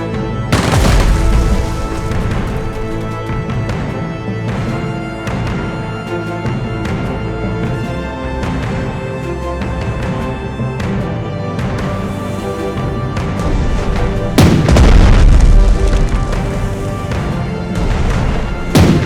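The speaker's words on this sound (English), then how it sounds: "One volley of our shelling worth more than my house." Naval artillery shelling in the Pacific-war strategy game Strategic Mind: The Pacific: heavy booming volleys over dense battle noise and music, staying loud throughout with a sharp burst of blasts near the end.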